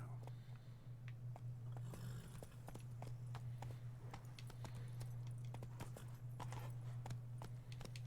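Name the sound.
horse Roach walking, clip-clop hooves, from a video game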